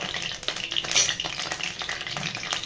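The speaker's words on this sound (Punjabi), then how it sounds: "ਤੇਲ ਨੂੰ ਆਪਾਂ ਚੰਗੀ ਤਰ੍ਹਾਂ ਕਾੜ ਲਿਆ ਤੇ ਸਭ ਤੋਂ ਪਹਿਲਾਂ ਪਾਵਾਂਗੇ ਜੀ ਆਪਾਂ ਜੀਰਾ" Cumin seeds hit hot oil in a kadai and crackle hard, a dense close sizzle with stirring scrapes.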